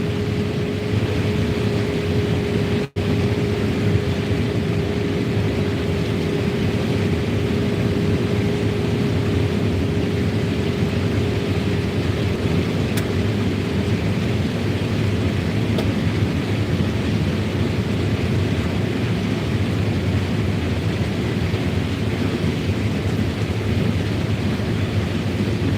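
A combine harvester runs at full throttle during corn harvest, a loud steady mechanical roar with a constant whine that holds without a break from start to finish.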